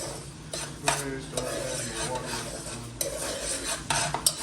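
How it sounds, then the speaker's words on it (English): Spanish rice fries in a pan under repeated stirring, with a spoon scraping and knocking against the metal in an uneven rhythm over a low, close sizzle. "With the Spanish rice, you have to like fry it first."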